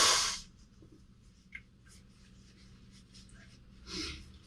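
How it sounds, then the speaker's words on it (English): A short, forceful nose blow bursts out at the start, followed by quiet room sound, a faint tap and a softer second blow near the end. "I have to blow my nose"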